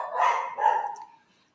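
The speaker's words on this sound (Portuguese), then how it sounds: "Hoje os cachorros estão danados para latir." Dogs barking in short bursts, a couple of overlapping barks fading out after about a second, moderately near and alone without talk.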